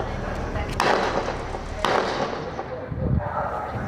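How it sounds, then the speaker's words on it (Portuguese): Two sharp gunshots ring out about a second apart in Campinas, Brazil, amid a noisy outdoor background, with faint voices underneath. "Vamos ouvir os tiros."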